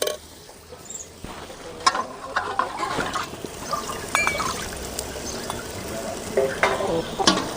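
A cup of water goes into sautéed masala for a traditional mushroom gravy, raising a hiss and sizzle with stirring scrapes and light clinks, close and continuous, with no voices.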